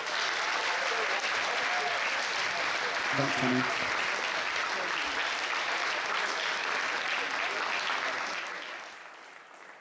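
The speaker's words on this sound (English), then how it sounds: "can we have an enormous round of applause for all of the bands that we've just heard" A crowd applauds the bands at a battle of the bands show, a dense and sustained wave of clapping with a brief spoken word from a nearby voice, fading away near the end.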